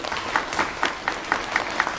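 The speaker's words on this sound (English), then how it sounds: "let's give them a big round of applause" An audience at a bass recital claps in a steady, rhythmic unison beat, each clap loud and close.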